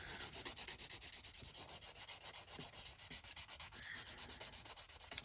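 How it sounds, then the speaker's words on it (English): A nail buffer rubs back and forth across fingernails to take off the shine, giving quiet, rhythmic scratchy strokes in a steady sawing pattern with no talking. "I find if you use the buffer, then you cannot really cut yourself."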